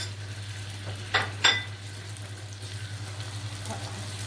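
Tomatoes dropped into hot oil for Egyptian koshari chili sauce in a pot, giving two sharp splashing sizzles close together, then a low simmering crackle under a steady hum.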